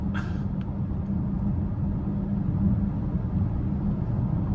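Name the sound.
road noise inside a 2025 BMW X5 M60i driving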